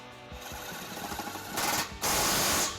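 Impact tool with an 18 mm socket driving trailer hitch bolts under a 2010 Dodge Grand Caravan, a rapid mechanical hammering chatter in short bursts that ends in two louder, sustained rattling runs.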